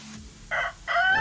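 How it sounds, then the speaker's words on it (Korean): A rooster crows in two short, bright bursts separated by a brief pause, close and clear over a low background hum, with no voices. "수탉에는 일출을 예측하는 데 도움이 되는 자체 내부 자명종을 갖고 있어서 아침에 꼭 끼요 하고 울 수 있어요"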